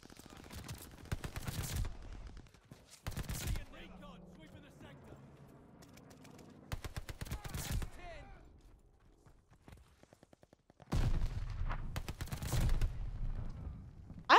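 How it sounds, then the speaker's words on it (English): Owen Gun submachine gun firing in Call of Duty: Vanguard, with several sharp bursts of rapid automatic fire separated by quieter gaps, the loudest burst near the end. "I like the Owen gun for Vanguard"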